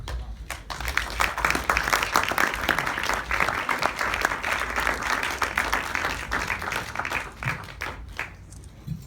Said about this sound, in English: I'd like you to give yourself a round of applause